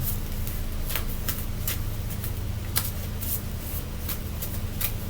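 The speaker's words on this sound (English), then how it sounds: "Trying to get y'all a good shuffle" Cards are shuffled repeatedly in soft riffling bursts over a steady low hum, close up, with no speech.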